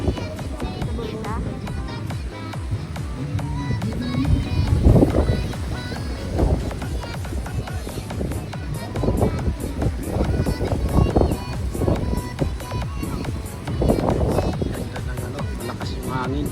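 Strong wind buffeting the microphone at the top of Campoquino beach resort in Sipalay, a continuous rough rumble with gusty swells as people talk nearby.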